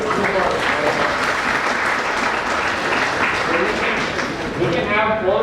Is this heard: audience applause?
yes